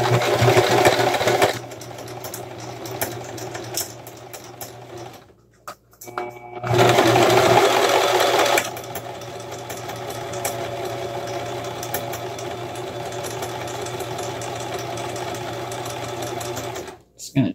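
A sewing machine stitches a holiday Dollar Tree craft project, its steady whirring motor running in bursts with a short pause between, alongside nearby talking.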